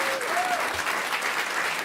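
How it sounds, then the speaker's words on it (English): An audience claps continuously after a talk, a dense steady wash of applause throughout with a faint voice underneath. "Please give her a round of applause."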